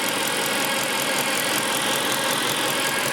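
A Mercedes C63 AMG engine idles close by, giving a dense, loud, steady mechanical rumble with a faint ticking texture and no voices.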